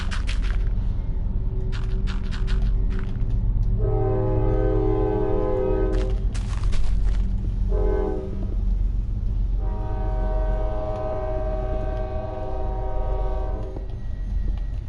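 Train passing with its horn sounding in several long blasts, one short and one sustained, over a loud continuous rumble of rolling cars.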